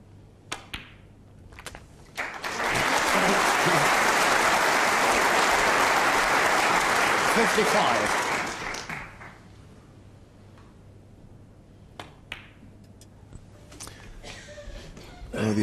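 Audience applause at a snooker match swells up after a few sharp knocks, holds loud and full for about six seconds, then dies away to near quiet with a few isolated clicks.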